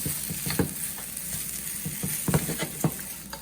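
Scallion and onion stirred into Singapore curry noodles in a hot pan: a constant sizzle broken by several clattering stir strokes and scrapes, close and clear.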